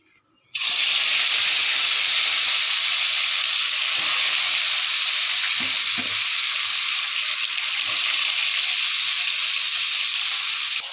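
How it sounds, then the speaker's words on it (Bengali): A fish head fries steadily in hot oil in a pan, a loud continuous sizzle starting abruptly and holding for about ten seconds, with a few faint clinks underneath. "এই যে মাথাটা ভাজছি।"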